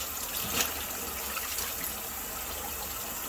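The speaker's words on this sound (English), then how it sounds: "All right, we're ready for the third rinse." Tap water runs over mustard greens being rinsed in a sink, a steady close splashing stream with a few brighter spatters, no voices.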